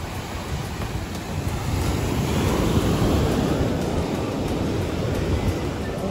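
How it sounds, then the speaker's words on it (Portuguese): Ocean waves wash onto a beach at Maceió in a steady, even roar of surf with a soft breeze over it. No voices are heard. "Mas olha que bonita a água. Ondas."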